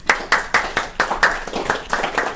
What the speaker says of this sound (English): So you get the round of applause just to start.